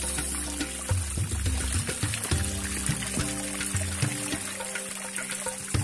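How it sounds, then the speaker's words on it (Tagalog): Small decorative waterfall with solar lights, water pouring and trickling in a steady splashing flow with irregular bubbling drops, close and moderately quiet, without talk. "Waterfall."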